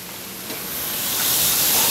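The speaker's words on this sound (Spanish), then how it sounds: "Se sigue flambeando." Onion and tomato flambéing in a pan over very high flame, giving a steady broadband hiss and roar that swells gradually louder, with no voices.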